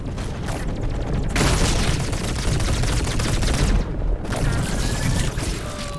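Turrets firing in the video game Lemnis Gate, a dense, loud barrage of rapid gunfire and booms that carries on nearly without pause, with brief dips and a few whistling tones near the end.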